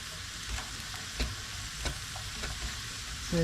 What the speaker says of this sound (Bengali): কিসমিসগুলো ভাজা হয়ে যাচ্ছে